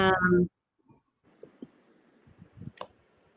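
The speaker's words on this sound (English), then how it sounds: "I'm typing the sentence right now." Keyboard typing: a voice speaks briefly, then after a pause comes a sparse run of soft, irregular key clicks, faint and close.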